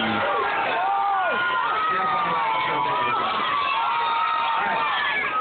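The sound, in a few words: crowd cheering at scout camp cardboard boat race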